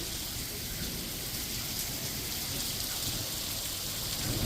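Heavy rain pours steadily outside an open garage during a storm, a dense, constant hiss of water on surfaces that stays loud and even throughout, with no voices.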